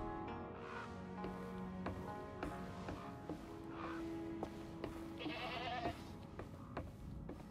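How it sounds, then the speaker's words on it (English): Goats bleat repeatedly in the cozy witch game Reka, with several short wavering calls spread through the clip over soft ambient tones and chimes. "I hear the goats."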